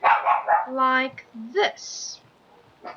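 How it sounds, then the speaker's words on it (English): A pet dog barks and yips a few times in the background, short sharp bursts mixed with a person talking nearby. "I apologize for my dog in the background."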